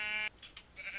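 A Minecraft sheep gives one short, bright bleat, followed by faint soft clicks and shuffles of blocks nearby.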